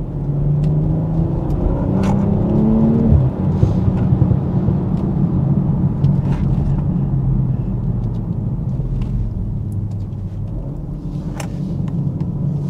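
A 2022 BMW M440i Convertible with an 8-speed gearbox rumbles steadily, its engine note rising and dropping through a throttle blip around a downshift, heard from inside the car with road and wind noise.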